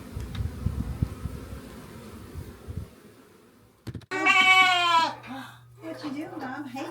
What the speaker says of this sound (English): We put all the goats out.